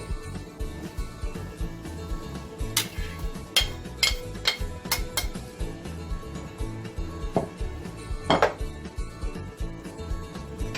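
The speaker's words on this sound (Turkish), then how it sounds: "Biz o kısma getirmeden etlerimizi içine boşaltıyoruz." Chunks of meat tipped into a pot of hot melted fat for Turkish kavurma, with repeated clattering of metal pot and utensil and scattered sharp clinks over a steady background.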